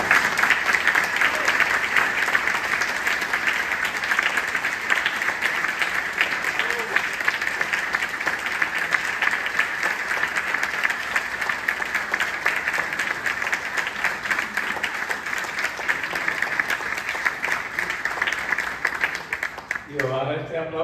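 A large audience at a university presentation on the Ukrainian conflict applauds a speaker with sustained, dense clapping for about twenty seconds, steady and loud, before a voice begins speaking at the very end.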